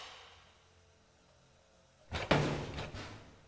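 A locked door in the horror game At Dead of Night rattles and thuds without opening, a short, close burst of clunks and a knock after a quiet lull.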